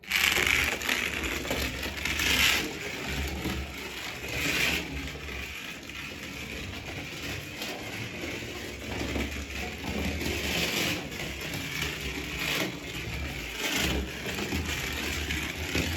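A 1961 Lotus Scalextric slot car with rock-hard tyres runs on the track, making a continuous buzzing motor whine and rattle that swells and fades as it passes around the circuit, fairly loud and close, with no speech.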